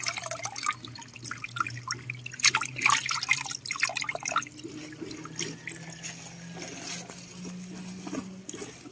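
Water streams and drips from a lifted, soaked compost sack, a steady run of pattering and splashing close by that continues for several seconds with no voices.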